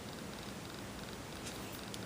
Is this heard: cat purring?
yes